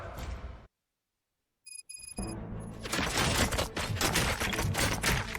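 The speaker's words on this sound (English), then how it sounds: "Gunshots? What's going on?" Gunfire in the video game RoboCop Rogue City on Xbox Series X: a dense, loud volley of shots fills the second half, after a brief silence and a short ringing electronic tone.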